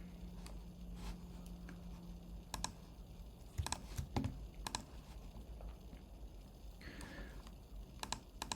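Computer keyboard typing while an Apex class is written in Salesforce, with scattered clicky keystrokes in small irregular bursts over a low steady hum, fairly quiet and close, with no talk.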